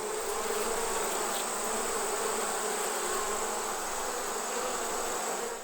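A dense, steady buzz of many bees swarming around an apiary of beehives in Uganda, continuous and fairly loud with no talk throughout.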